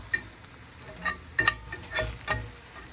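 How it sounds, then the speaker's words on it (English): A Beyond Meat burger patty in a skillet gives a soft, low sizzle, broken by several scraping and clattering bursts from handling, close by. "It goes down in the skillet."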